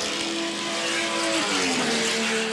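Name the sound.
1981 sports sedan race car passing on circuit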